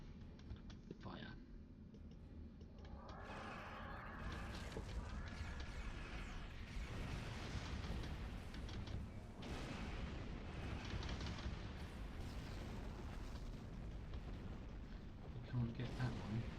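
Spaceship weapons fire in a Star Trek Online space battle, dense booming blasts and mechanical rattling that go on without a break, loud and sustained as game sound effects.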